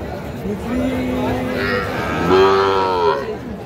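A cow at a cattle market lets out two long, drawn-out moos, the second louder and rising, close by over a murmur of crowd chatter.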